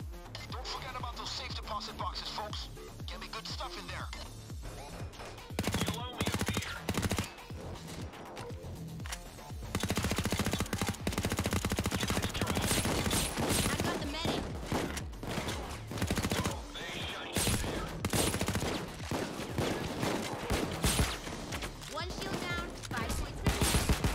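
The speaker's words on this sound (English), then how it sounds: "Oh, also that is a turret." An automated turret in a Payday 2 bank heist fires off rapid, loud volleys of gunfire in repeated bursts, broken by short pauses.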